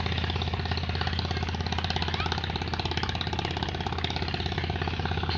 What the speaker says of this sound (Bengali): অনেক বড় জাহাজ আসতেছে